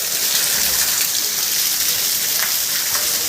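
Rainwater floods into a room from above, a loud, continuous rushing and splashing hiss with no break.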